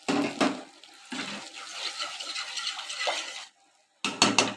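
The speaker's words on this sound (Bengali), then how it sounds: "জলটা দিয়ে দেব।" Water from a rinsed bowl splashes into a cooking pot of mustard and yogurt hilsa fish masala, with several pouring bursts, a short silence, then more splashing and a clink of the bowl.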